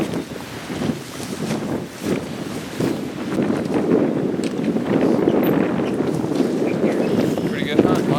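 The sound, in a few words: wind blowing during rainy turkey hunt in Kentucky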